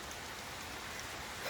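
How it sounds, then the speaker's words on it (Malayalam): Steady rain pours down continuously, a dense even hiss of drops with no voices. "നല്ല മഴ പെയ്യുന്നുണ്ട്"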